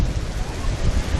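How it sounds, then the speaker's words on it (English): Wind blowing on a pier, a steady broadband rush with low rumbling buffeting that sounds like gusts hitting the microphone, continuous and fairly loud throughout, with no clear voices. "It's probably gonna be even windier as we continue on the pier."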